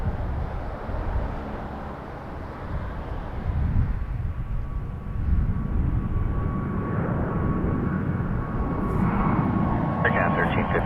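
An Air Canada Airbus A220-300 jet departs with a broad, rumbling engine roar that builds and stays loud throughout, a thin steady whine riding above it, with a brief higher noise near the end.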